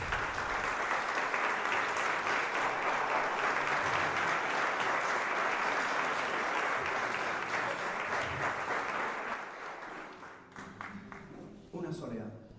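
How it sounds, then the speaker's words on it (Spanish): Audience at a flamenco literature and archaeology event applauding a singer about to perform a soleá, a dense sustained burst of clapping that thins out and fades near the end, with a voice over it. "Un aplauso fuerte para él."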